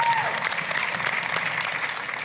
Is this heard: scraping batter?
no